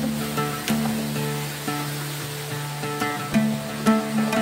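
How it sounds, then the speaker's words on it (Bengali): An artificial waterfall at an indoor marine-life exhibit in Cox's Bazar splashes with a steady, rushing wash of water, and a low mechanical hum with occasional soft knocks runs underneath. "কৃত্রিম ঝর্ণা।"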